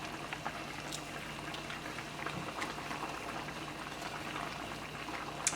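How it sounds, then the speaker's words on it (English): A pot of stew fish sauce boils steadily, giving a soft, continuous bubbling and popping with occasional small splashes, heard close and fairly quiet with no voices. "now that your sauce have come back up to a boil, you submerge your fish back into it"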